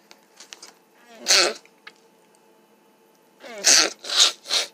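Several sharp sneezes, one alone and then three in quick succession, close and loud, with faint sniffs and breaths in between.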